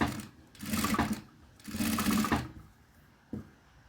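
Two runs of a sewing machine fitted with a standard presser foot as it gathers a fabric strip into ruffles, close and steady with a short pause between them, then a brief click.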